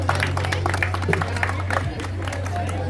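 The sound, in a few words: applause welcoming the festival princess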